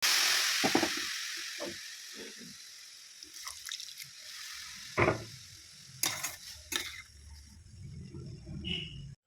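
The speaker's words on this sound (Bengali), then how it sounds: "তারপর দেখো সুজিটা দেওয়ার পরে আমি একটু ভালো করে ভেজে নিব" Semolina (suji) frying in oil in a pan gives a steady hiss and sizzle, with scattered clinks and scrapes of a spoon stirring throughout.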